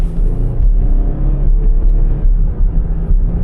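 Steady low engine rumble from an SUV being driven, constant and loud, with road noise and no talking.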